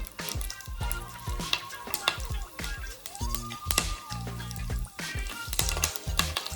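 Tempering spices and curry leaves crackle and sizzle in hot oil for sambar, a busy popping hiss running throughout, with clinks and background tones over it.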